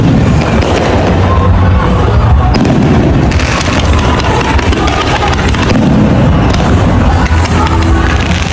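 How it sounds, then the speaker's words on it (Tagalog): A fireworks display at Mall of Asia fills the air with dense, loud rumbling bursts and crackles, heard from within a noisy outdoor crowd without any clear gaps. "At nanood na rin ng fireworks dito."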